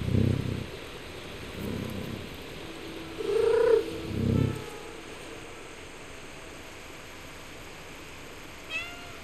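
A cat in the video game Stray gives several short meows, some with a rising tone, over a quiet ambient background, then near-silence with a faint chirp at the end.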